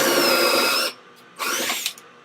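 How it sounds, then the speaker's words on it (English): A power drill bores a pocket hole into wood through a Kreg jig, whining loudly for about a second, stopping, then running again in a second short burst. "and I start drilling."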